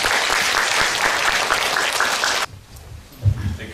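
A lecture audience applauds two arriving professors with loud, dense clapping that cuts off abruptly, followed by quiet room tone and a brief bump.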